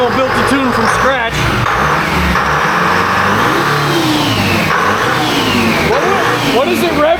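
A Detroit Diesel 453 engine revs hard on a dyno, loud and close, its pitch rising and falling through repeated pulls, with people talking over the steady roar.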